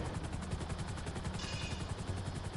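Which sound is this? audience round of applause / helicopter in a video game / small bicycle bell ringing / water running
helicopter in a video game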